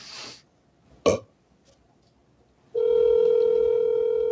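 A telephone dial tone sounds during a trivia-league phone-a-friend call: a steady, continuous tone starts after a short burst of noise and holds alone and fairly loud to the end.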